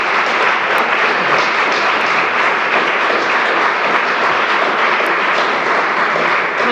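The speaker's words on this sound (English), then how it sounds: "I would nonetheless like to invite the audience to applaud the discussion." An audience applauds after a public talk on public service, a loud, dense and steady burst of clapping from a packed hall that carries on evenly without pause.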